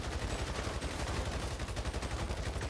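Dense, continuous gunfire from a GTA online gang shootout, with rapid overlapping bursts of automatic weapons and single shots forming a loud, unbroken rattle throughout.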